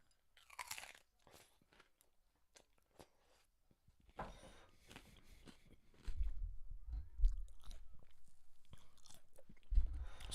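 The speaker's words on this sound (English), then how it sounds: "Listen to that crunch, man." Homemade oven-baked low-fat tortilla chips crunch between the teeth in a string of sharp, close bites and chewing, quiet at first and growing louder and denser toward the end.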